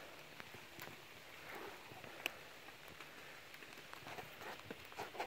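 Rain falling outdoors by a sawmill, a faint steady patter with scattered drips and a few sharper taps, no talking.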